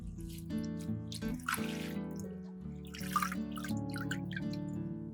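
Tap water runs and splashes over fresh mint leaves being washed, with soft drips and trickles under quiet background music.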